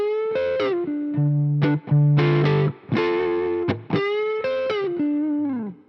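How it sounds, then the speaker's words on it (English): Electric guitar played through an amp with a Behringer Octavia octave fuzz pedal bypassed, giving a clean-to-driven tone with picked single notes and short phrases sustaining loudly and alone, separated by brief gaps. "This is the sound of the amp with the pedal bypassed."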